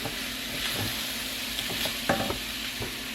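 Ground chuck sizzles and crackles steadily in a hot pan, with a few sharper pops and utensil scrapes over a continuous frying hiss, close and fairly loud.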